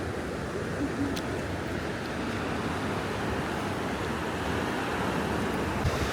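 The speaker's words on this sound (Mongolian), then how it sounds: "Хамгийн анхны хүрхрээ чинь бүр ийм өндөр байх нь шүү." Tall waterfall in a scenic natural area, a steady broadband roar of falling water that runs unbroken and fairly loud throughout, close by, with no talk.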